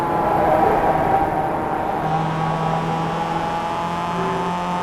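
A race car engine at the Sebring circuit during a club racing event, a steady loud drone that shifts pitch partway through as the car holds speed, close and alone without talk.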